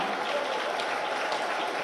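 An audience applauds the launch of a ragi malt programme for government school children, where hot milk is handed out. Moderate, even clapping continues throughout, heard from a little distance with no speech over it.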